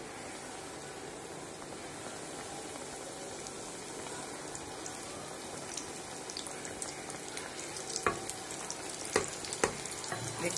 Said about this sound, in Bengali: এখন ভাজবো। চুলে আগেই গরম করে রেখেছি তেল।